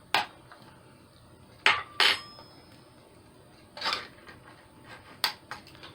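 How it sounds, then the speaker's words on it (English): A spoon clinks against a bowl while canned mushroom soup is mixed for crock pot liver and onions: a few sharp, separate metallic taps spread over several seconds in a quiet kitchen, with no talking. "I'm going to go ahead and mix up this mushroom soup."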